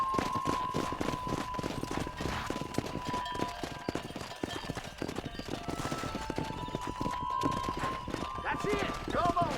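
A horse galloping in the Red Dead Redemption video game, with rapid, loud, continuous hoofbeats, a neigh toward the end, and voices talking over the running.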